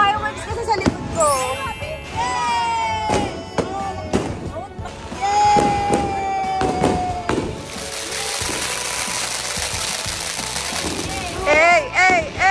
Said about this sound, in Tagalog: May fireworks kasi sa likod ko.